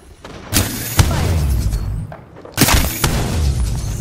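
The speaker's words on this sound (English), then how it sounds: "There is an airstrike on our position." An airstrike in a video game lands as two heavy booming blasts with sharp cracks, each followed by a rumbling roar that fades before the next, loud and close.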